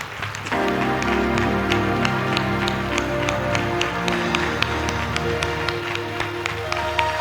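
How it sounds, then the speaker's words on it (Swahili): A church congregation claps hands in a steady, regular rhythm over sustained music, the sharp claps cutting through a full, busy crowd sound. "Piga makofi sana."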